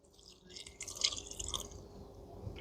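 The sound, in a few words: water poured into pizza dough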